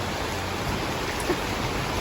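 Rain falling steadily as a dense, even hiss of broadband patter, unbroken and fairly loud across the whole stretch with no voices.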